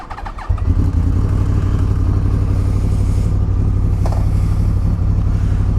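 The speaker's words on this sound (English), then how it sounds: "let's get that cold start, shall we?" A motorcycle engine cold starts with a brief crank, catches after half a second and settles into a loud, steady, throbbing idle close to the microphone.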